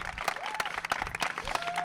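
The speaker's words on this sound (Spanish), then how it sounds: "¡Aplauso para Desi!" An audience at a live film-discussion show claps briefly for a guest, a short patter of applause with a few scattered louder claps and some background voices.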